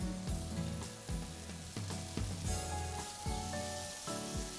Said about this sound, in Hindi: so he is frying it for about 10 minutes